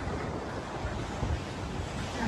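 Ocean waves roar against the beach during Hurricane Helene as one continuous, loud wash of surf mixed with heavy wind buffeting the microphone.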